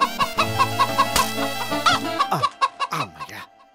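A village chicken clucks repeatedly in quick, loud bursts close by, with a rising squawk near the end before falling quiet.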